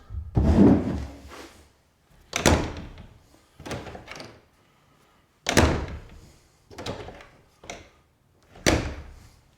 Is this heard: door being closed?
yes